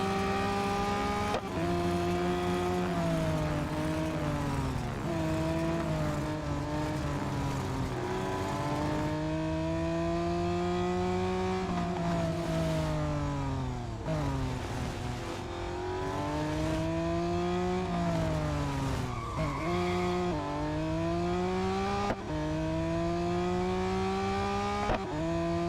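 A BMW M3 GTR engine roars through a racing lap in the mobile game Real Racing 3, revving hard and rising in pitch through repeated gear shifts, with drops as it brakes, loud and continuous.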